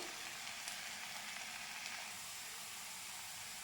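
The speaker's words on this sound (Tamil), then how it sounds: "வெண்டைக்காய் வதங்கிடுச்சு மிளகாத்தூள் சேர்த்துக்கலாம்" Okra sautéing in a pan: a soft, even sizzle and faint hiss hold steady and fairly quiet for a few seconds, with no talking.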